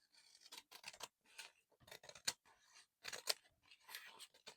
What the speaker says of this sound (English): Snip it with the big scissors.